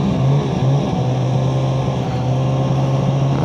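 Freeride 800 snowmobile engine droning steadily on northern Wisconsin swamp trails, a loud continuous close hum with a constant pitch and no talk over it.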